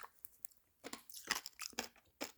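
Close crunching on coarse turbinado sugar crystals, a series of sharp, crackly bites and chews in quick irregular bursts, loud and nearby with no talking.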